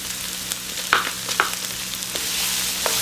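Shallots, onion and tofu sizzle steadily in hot oil in a pan for shrimp pad thai, a close, bright crackle broken by a few sharp spits and stirring clicks.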